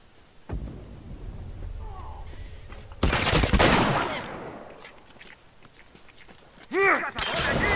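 Gunfire crackles in a video game in bursts of rapid shots, with a loud crashing volley in the middle and sharp ringing effects near the end, over a constant background din.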